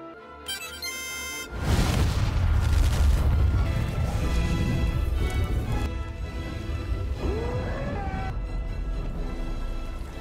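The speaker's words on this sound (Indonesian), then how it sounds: "dan itu meledak." A bomb's heavy boom in an Indonesian action film erupts after a short musical lead-in, followed by a long rumbling roar and crashing debris with dramatic music over it.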